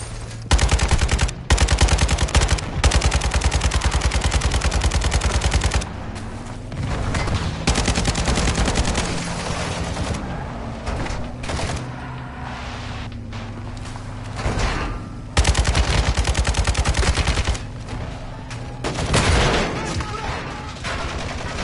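Rapid automatic gunfire bursts loud and close in a PS4 military shooter, with repeated long volleys broken by short pauses, mechanical clanks and a shouted voice mixed in.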